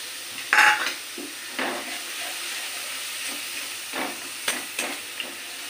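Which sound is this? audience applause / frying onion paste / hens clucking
frying onion paste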